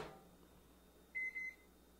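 A microwave oven that has just heated butter and marshmallows gives two short, clear electronic beeps in a quiet kitchen.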